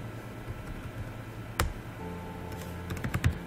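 Typing on a computer keyboard while filling in a word-processing document, soft quiet key clicks with a few sharper taps and a quick burst of keystrokes near the end.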